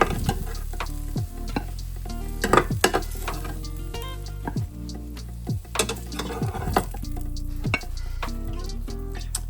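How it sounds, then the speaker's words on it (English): Turkey burgers cook on a hot grill, giving a steady, close sizzle and crackle with frequent sharp scrapes and clinks from a spatula or tongs as the patties are handled. No one speaks. "So, now we are going to take the burgers off the grill."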